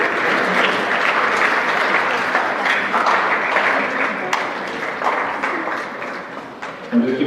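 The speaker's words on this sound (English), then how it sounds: "I'm just giving you a break from clapping because there's only 30 more." A large audience claps steadily and continuously at a 2014 IBNV celebration while names are read out, a dense, even wash of applause that holds for the full stretch and tapers slightly at the end.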